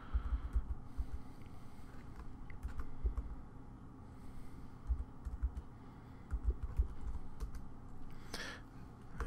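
Quiet keystrokes tap on a computer keyboard while a password is entered, a light irregular clicking over faint background hum, with no talk.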